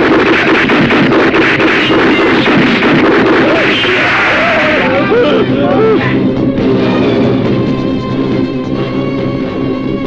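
Gunfire and explosive bursts crackle through a chaotic action fight scene in a Bangladeshi film, loud and dense with overlapping shouts and score throughout.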